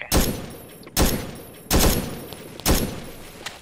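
Bursts of gunfire from the Arma 3 Vietnam-era shooter ring out four times at roughly even intervals, each a sharp loud crack trailing into echoing decay, with no talking.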